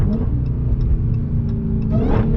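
A Dodge Hellcat with a JLT intake rumbles and revs close by from inside the cabin with the windows up, its supercharger whine rising near the end on a downshift.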